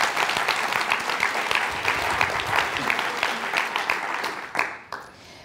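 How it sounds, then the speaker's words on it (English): An audience at a tech organization's talk breaks into sustained applause, a dense wash of many hands clapping that holds steady for several seconds before quickly dying away. "So big applause for that."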